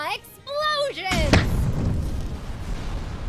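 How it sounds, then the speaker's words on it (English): Explosions in the video game Regalia: a voice at the start, then a loud rumbling burst with a sharp blast, fading into a sustained, noisy roar. "Explosions!"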